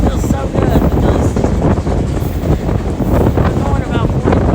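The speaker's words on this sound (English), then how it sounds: "You can see it's very windy" Strong wind buffets a microphone on an open-air historic sugar train ride through Florida fields, a loud continuous rough roar with gusty swells, as a person talks over it.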